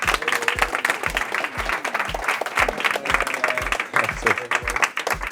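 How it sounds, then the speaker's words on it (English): A crowd at a DJ masterclass breaks into lively applause and cheering, dense clapping with rhythmic low thumps running steadily underneath, fairly loud and close. "Please welcome him with a big applause"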